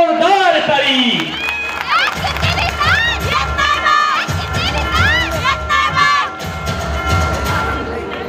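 A crowd at a Shiv Sena political rally in the Koregaon constituency cheers and shouts loudly, with high whoops and excited voices rising over a constant roar for several seconds.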